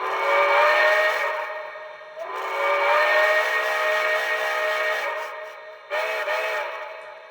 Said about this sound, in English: I think this is about as close as I can get to the actual whistle